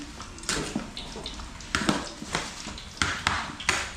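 Sea water splashes and drips into a cooking pan in a series of short pours and clinks, fairly close and moderately quiet, with little talk.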